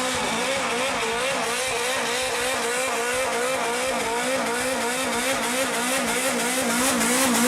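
A Mk1 Ford Escort with a Harris Performance engine is driven hard, its loud, close engine note rising and falling continuously with no talking.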